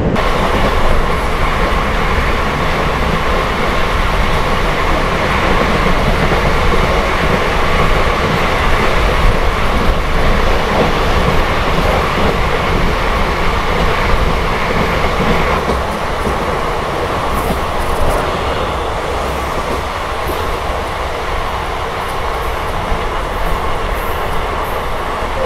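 Bengaluru airport train running steadily on its rails, a continuous loud rumble of wheels and carriage with faint clickety-clack and occasional light squeal, no voices.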